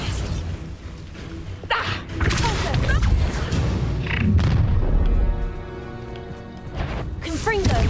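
Bombarda blasting spell going off in Hogwarts Legacy: loud booming explosive bursts with rumbling low thuds and mechanical creaks, amid game music and a voice calling out spell names.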